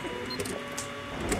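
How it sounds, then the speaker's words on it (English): A noisy printer in a video game prints with a steady, loud mechanical whirring and rattling that continues throughout. "Why is this printer so like noisy?"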